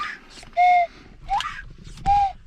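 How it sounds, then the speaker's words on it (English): A toy train whistle from a wooden toy store is blown in three short tooting bursts, fairly close and clear, with a little background noise between blows. "That way she's always got a train whistle with her all the time"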